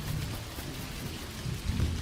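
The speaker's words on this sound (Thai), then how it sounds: "ว้าว ฝนตกด้วยดีเวอร์" Rain falling in the farming video game Dinkum, a steady soft hiss of rainfall with low rumbling underneath, continuous and fairly quiet with no voices.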